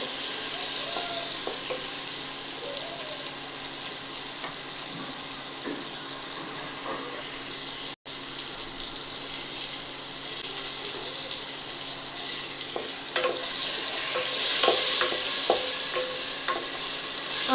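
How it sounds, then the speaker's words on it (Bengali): Ingredients for a soya chunks curry are stirred and fried in a pan, a loud continuous sizzle with scraping spatula strokes throughout, close-up and steady with no talking. "তখন এটাকে নাড়াচাড়া করবো। সামান্য একটু ভেজে নেবো ওটাকে"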